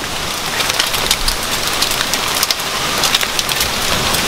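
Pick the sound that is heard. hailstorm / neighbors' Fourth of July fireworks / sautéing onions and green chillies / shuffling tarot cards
hailstorm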